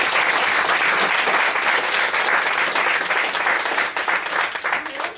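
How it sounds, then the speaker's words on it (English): Audience applause for a local historian at a Royal Wootton Bassett talk, a full room of clapping that stays loud and steady, then thins out near the end. "So let's just give Sheridan a round of"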